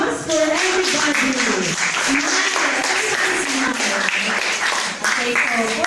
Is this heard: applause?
yes